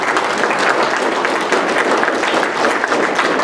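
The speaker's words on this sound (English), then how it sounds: "Give him a good round of applause." Audience giving a round of applause at a 50th anniversary speaker series event, loud sustained clapping from a crowd filling the whole stretch.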